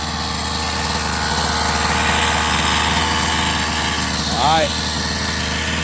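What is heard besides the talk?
Rovan 45cc gasoline engine running after clutch repair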